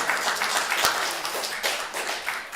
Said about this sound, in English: At first, I thought you were applauding my pronunciation of Roush